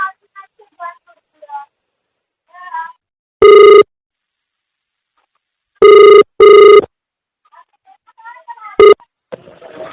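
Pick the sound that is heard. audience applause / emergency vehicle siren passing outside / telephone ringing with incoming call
telephone ringing with incoming call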